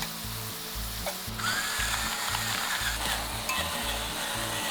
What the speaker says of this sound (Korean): 이제 여기에 양파하고 파프리카 같이 볶아줄게요